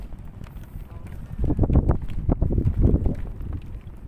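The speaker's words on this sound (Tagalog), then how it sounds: "malakas ang hangin" Strong wind buffets the microphone in rough, rumbling gusts that swell and fade, with no one speaking.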